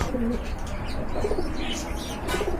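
A pair of khaki pigeons give soft coos a few times close by, low throaty calls over a steady background hum.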